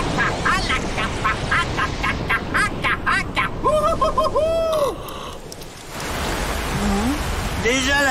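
Cartoon rain falling steadily in an animated comedy scene, a continuous hiss of drops running through the whole stretch, heard under quacking cartoon voices and lively sound effects.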